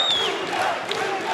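A crowd at an MMA event roars and jeers at a fighter in a dense, steady wash of voices, loud and continuous for about a second.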